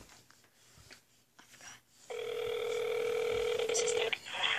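A telephone dial tone sounds steadily for about two seconds during a prank call, loud and close, after a stretch of quiet handling noise and faint background sound; no talking over it.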